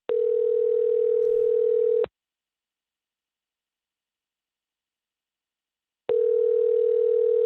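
A steady telephone dial tone hums loud and clear for about two seconds, stops dead for four seconds of silence, then returns at the same pitch, just before a prank phone call.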